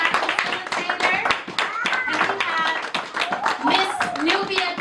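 Audience at a panel discussion and birthday celebration for an artist and photographer claps for the panelists and facilitator, a steady run of hand claps with voices talking over it.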